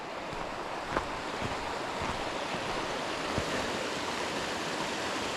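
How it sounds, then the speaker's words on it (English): A brook flows beside a hiking trail in the White Mountains, a steady, broadband rushing of water that is close and continuous, with no talking. "We're walking alongside the brook."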